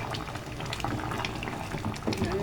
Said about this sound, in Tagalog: Bukal na siya.